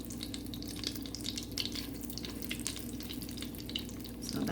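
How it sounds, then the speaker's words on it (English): Whole garam masala spices sizzle in melted butter inside an Instant Pot, giving a steady, close crackling hiss with fine popping and no talk. "So that's sizzling up"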